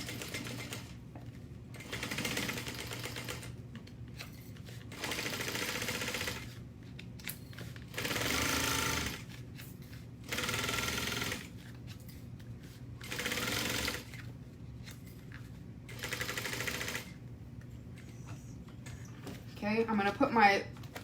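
A sewing machine stitching a business bag at a quarter-inch seam with back stitching, running in repeated short bursts of steady whirring separated by pauses, close and clear, with someone talking in between.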